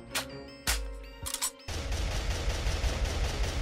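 Gunfire in the Roblox game SharkBite, aimed out at sea from near a yacht: a few sharp, separate shots in the first second and a half, then a rapid, continuous rattle of firing that keeps going.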